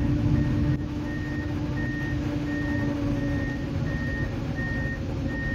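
A Komatsu track hoe, used as a crane to reinstall the bed on a dump truck, sounds a steady series of evenly spaced reversing beeps over a loud, constant diesel engine rumble.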